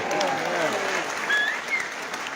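A crowd at a political rally in Christchurch applauding steadily, a dense, even wash of clapping that holds for the whole moment, close and fairly loud.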